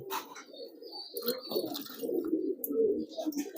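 Pigeons cooing close by during a bathing session, a steady run of soft, throaty burbling coos repeating over a few seconds with no speech.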